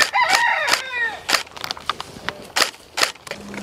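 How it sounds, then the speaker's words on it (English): A rooster crows outdoors with a strained, rising call at the start, followed by scattered sharp clucks and bursts of noise, moderately close with faint background. "The chickens."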